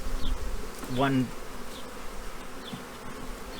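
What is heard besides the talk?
two honeybees fighting inside a beehive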